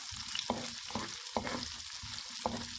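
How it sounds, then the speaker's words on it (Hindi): Onions fry in a pan until lightly browned for a Rajasthani chickpea and potato dish, with a continuous hissing sizzle and regular scraping stir strokes roughly every half second, heard close up with no talking. "ब्राउन कर लेते हैं। प्याज का कलर गुलाबी सा हो जाए"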